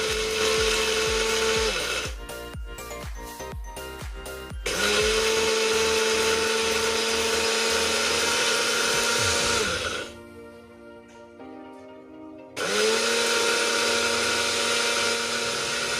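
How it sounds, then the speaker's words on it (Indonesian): A kitchen blender grinds eggshells into powder, a loud steady high-pitched motor whir that stops and restarts several times, with rattling pulses and a quieter spin-down before starting again. "Blender dipilih dijadikan sebagai alat untuk menghaluskan kulit telur atau cangkang telur"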